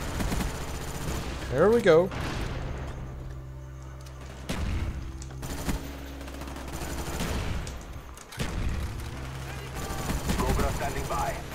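Gunfire from the FAMAS rifle in Call of Duty: Black Ops on Xbox 360, with loud bursts and booms that sound almost nonstop over dense game noise while a player talks briefly.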